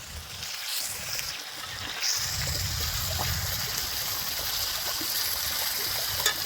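Water poured over fried rohu fish pieces resting in spice masala, a steady trickling splash that swells around the two-second mark and continues as a close, even wash, with bubbling oil beneath.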